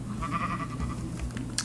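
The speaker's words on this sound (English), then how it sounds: "There's some more sheep." Sheep bleating in a video game, a short faint bleat or two over a low steady background hum, with no talk.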